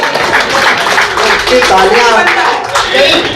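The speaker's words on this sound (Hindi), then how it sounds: "इतनी तालियां बजाए" A crowd claps loudly at a Hindi poetry recital, a dense burst of applause with a few voices calling out over it, close and strong throughout.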